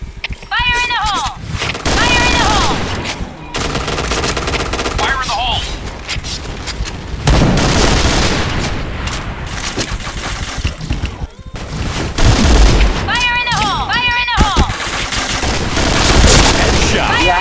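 Loud bursts of automatic gunfire and explosive booms in a shooter video game, with rapid repeated shots coming in clusters and a voice talking over the battle throughout.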